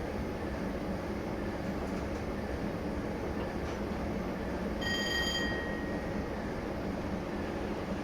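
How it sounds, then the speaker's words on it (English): A freight train rolls past a signal near Tallington, a steady broad rumble of wagons throughout with a brief high ringing tone midway, no voices. "the train's already going through the signal"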